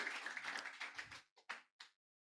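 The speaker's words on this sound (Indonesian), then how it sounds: "Tepuk tangan bagi Yesus dulu." A church congregation claps during a sermon, a fairly faint burst of many hands that thins out into a few separate final claps before falling silent.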